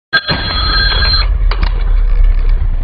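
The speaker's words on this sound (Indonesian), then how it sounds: "Seketika telepon rumah berdering." A home telephone rings in a quiet house, one loud bright electronic trill lasting about a second, then a short second burst over a low rumbling background.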